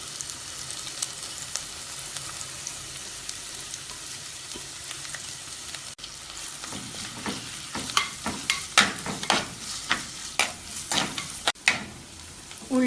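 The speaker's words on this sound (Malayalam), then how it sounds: "കുറച്ച് കറിവേപ്പില ഇട്ട് വഴറ്റാം." Onion, crushed garlic, ginger, green chilli and curry leaves sauté in a pan, a steady soft sizzle at first, then a run of sharp stirring scrapes and clatters against the pan in the second half; no one speaks.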